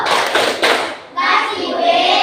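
A primary school class of children does a rhythmic group clap chant in a classroom, loud and close, with hands clapping and young voices chanting together.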